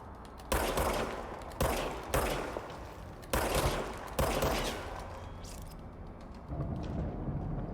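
The shapeshifting Service Weapon fires in the video game Control, loud close bursts of gunshots in several separate volleys with reverberant tails between them.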